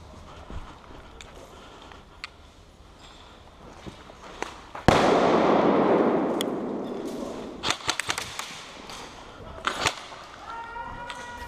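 A grenade blast in the game SOCOM, a sudden loud broadband boom that rolls on for a few seconds, with scattered sharp gunfire cracks and thuds before and after it.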